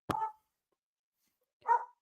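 A dog barks twice, two short sharp barks about a second and a half apart, close and fairly loud with quiet in between.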